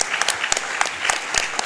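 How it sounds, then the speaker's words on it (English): An audience at a Games Done Quick charity speedrun event breaks into loud applause, a dense, continuous clatter of many hands clapping close and alone. "give them a big round of applause."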